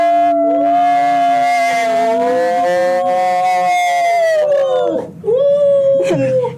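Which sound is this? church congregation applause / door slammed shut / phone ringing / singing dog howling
singing dog howling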